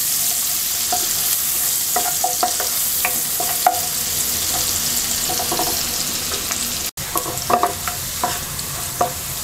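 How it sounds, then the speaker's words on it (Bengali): Onion sizzles steadily in a pan on a hob and is stirred, with scattered scraping clicks of the spoon over the continuous loud frying hiss. "পেঁয়াজটা হালকা ভেজে নেব।"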